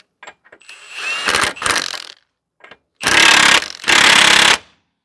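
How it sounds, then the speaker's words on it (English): Short bursts of a pneumatic impact tool tightening the front axle nut on a 2010 Subaru Outback 3.6 during a CV axle replacement, loud rattling hammering in separate bursts with brief pauses between. "So we are just going to temporarily tighten up the axle nut."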